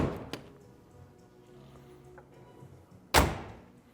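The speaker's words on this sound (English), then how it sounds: "The doors open and shut" Two solid thuds of a 1961 Chevrolet Corvette door, one at the start and a louder shut near the end, with quiet rattles between.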